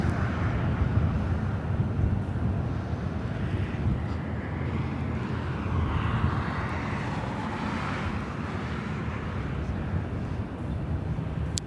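An airliner landing on runway 24 right at LAX, a broad, steady jet roar heard from a distance with wind buffeting the microphone throughout.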